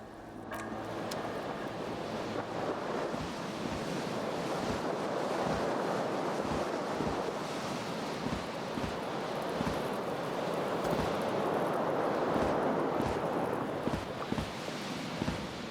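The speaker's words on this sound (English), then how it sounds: "A cool wind gushes in." Cold wind gusting through an open balcony door in the video game Disco Elysium, a steady broadband rush that swells and eases over the whole stretch, with no voices.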